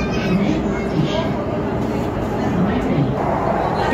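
A Pune Metro train running at high speed between Shivajinagar and Swargate, a loud, steady roar of rolling wheels and rushing air heard from inside the carriage.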